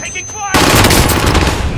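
Gunfire in Call of Duty erupts loudly after a brief quieter lead-in with a radio voice and a faint tone, then a dense, continuous volley of shots.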